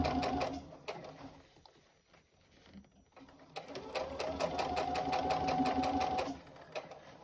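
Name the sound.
sewing machine stitching webbing handles onto a tote bag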